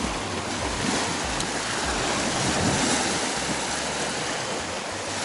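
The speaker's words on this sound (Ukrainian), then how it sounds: "Хвиля стала більша" Wind-driven waves lapping and surging steadily on the Kaniv reservoir, a continuous close washing roar with gusty wind noise on the microphone, no voices.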